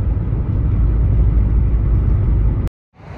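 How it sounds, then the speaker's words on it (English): A car drives at midnight, a loud, steady low road rumble and engine drone inside the cabin that cuts out abruptly near the end before faintly returning. "I decided I'm gonna drive back"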